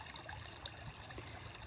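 Fast-running water rushes and trickles in a steady, low-level wash, with faint gurgles scattered through it and no talking.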